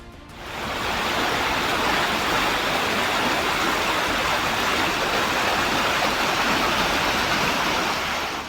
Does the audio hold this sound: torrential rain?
yes